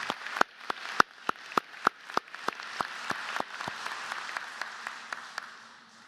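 Scattered applause at a university commencement ceremony as a nursing school faculty member is recognized, with distinct individual claps ringing out sharply at first and then thinning into a soft patter.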